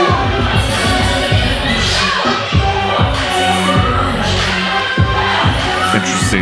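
A birthday crowd at a Pro Wrestling EGO show cheers and shouts in a dense, lively roar, with children's voices and rhythmic claps or stomps running through it.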